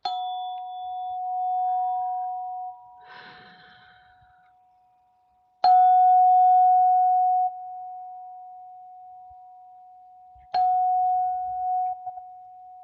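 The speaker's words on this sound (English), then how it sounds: "And for Ashish, I want to ring the bell." A bell rung three times during a livestream reading, each strike a clear, sustained ringing tone that slowly decays, with quiet pauses between and no talking.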